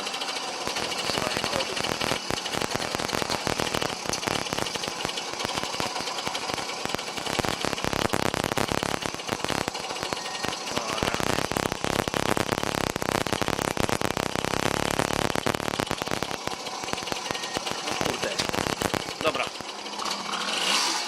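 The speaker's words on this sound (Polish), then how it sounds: "za jednym z któryś pierwszych kopnięć odpalił bez problemu i śmiga bez zarzutów" A Romet Ogar 200 moped engine runs steadily after a kick start, a loud, continuous, close two-stroke buzz that holds for the whole stretch.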